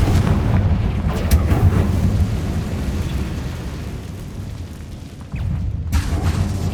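A blasting spell explodes in a fantasy video game, a heavy low rumbling boom that rolls on for several seconds, dips briefly, then surges again with a second deep blast, with no voices over it.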